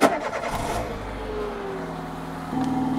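A car engine cranks and catches, then settles into a steady idle before a slight rise in revs near the end, heard alone at close range with no talk.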